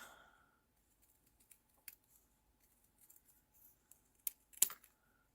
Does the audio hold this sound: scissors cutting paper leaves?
yes